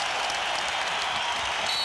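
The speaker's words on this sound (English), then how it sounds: "The crowd rises in the Skydome." A large basketball crowd cheers in the Skydome during an NBA game between the Toronto Raptors and the New Jersey Nets. A steady, dense roar of voices and applause fills the whole moment with no single voice standing out.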